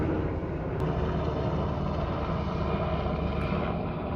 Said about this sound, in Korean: 저희 동네에 가끔 저렇게 헬기가 지나다녀요